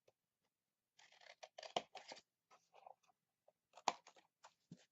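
Scissors cut a piece off a sheet of paper in a quiet room, with close, crisp snips and short rustles of paper.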